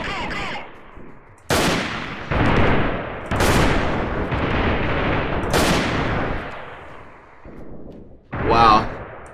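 Gunfire in the Freeman Guerrilla Warfare game during a siege, several loud sharp volleys and sustained bursts in separate clusters, with a player speaking between and over them.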